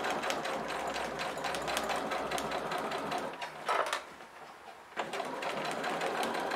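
A sewing machine stitches the seam of a fabric pouch with a rapid, steady mechanical whir, briefly slowing and pausing before starting up again at full speed.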